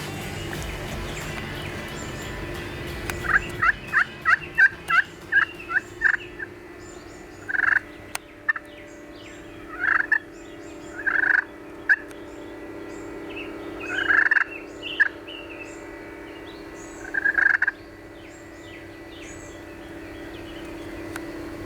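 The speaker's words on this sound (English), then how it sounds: "He gobbled again." A turkey gobbles repeatedly in rapid bursts, moderately distant, with pauses between calls over a quiet outdoor backdrop.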